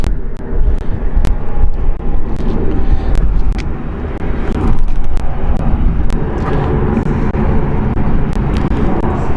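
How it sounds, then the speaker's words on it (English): An Edelweiss Airbus A340 during a rejected takeoff at Zurich, a loud continuous roar of jet engines heard from a distance outdoors, steady and heavy with broad rumble, with a few sharp clicks scattered through. "A340 Edelweiss. So that did a rejected takeoff."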